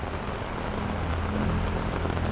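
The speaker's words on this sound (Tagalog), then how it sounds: "napakalakas na ng ulan. Nababasa na ako." Heavy rain pours steadily in Pandacan near a burned church and the Romualdez Mansion, a dense, close, continuous hiss of drops hitting surfaces with no voices over it.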